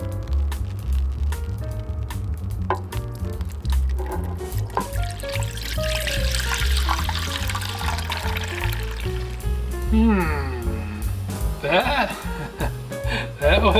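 Water poured into the tank of a Vevor ultrasonic cleaner, a steady trickle and gurgle of filling liquid running through the clip, with someone speaking over parts of it.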